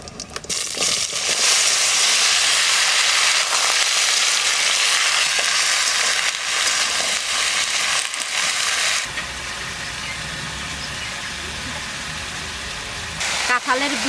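Vegetables frying in hot oil with dried red chilli, bay leaf and panch phoron, a loud steady sizzle that eases off partway, with a voice talking over it.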